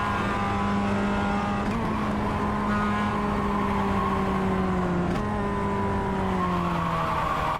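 A Mazda MX-5 race car in iRacing on the Nürburgring Combined circuit, its engine droning steadily at high revs with brief shifts in pitch as the tires squeal and scrub through a tricky corner, loud and close, with no talking.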